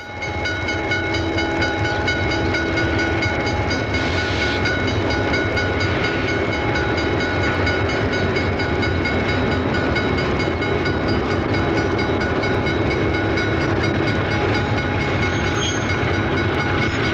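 The three-car eastbound Rock Island Peorian passenger train stands at Blue Island on a cold day, a steady engine drone with tonal hums and faint clanks running continuously, fairly near.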